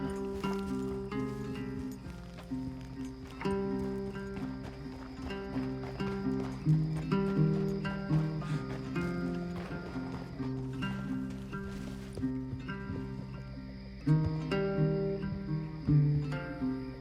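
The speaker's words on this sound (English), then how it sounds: "So, I guess we got away and the horse is gonna take us back." Horse hooves clip-clopping in Red Dead Redemption 2, a steady galloping rhythm set against continuous game music, with an occasional whinny.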